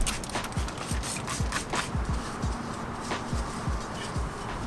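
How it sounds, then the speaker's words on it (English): A brake caliper is scrubbed with steel wool and degreaser, a steady rhythmic scratching that repeats about twice a second, close and moderately loud, with no talking. "I'm just gonna use degreaser and some iron remover and my steel wool and get it as clean"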